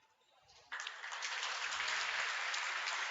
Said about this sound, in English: the Weedsport fans here give her a round of applause